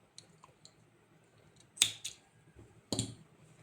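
Scissors snip crochet yarn in two sharp, close cuts a second apart, preceded by faint light clicks in an otherwise quiet room.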